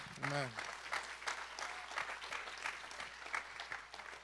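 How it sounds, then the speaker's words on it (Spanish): A church congregation applauds during a sermon, with moderate, uneven clapping that rises and falls in small bursts, and a voice briefly heard at the start. "Escucho los aplausos, pero con medio silencio."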